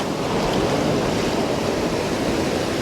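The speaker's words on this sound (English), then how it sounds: "Now mind these waves." Sea waves break on the shore at Portgordon in North East Scotland, a close, continuous surging roar of surf mixed with wind noise on the microphone.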